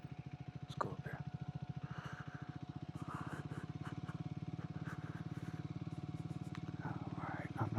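Motorcycle riding along a dirt road in Shenipsit State Forest, its engine a steady close pulsing drone throughout, with a voice talking quietly over it.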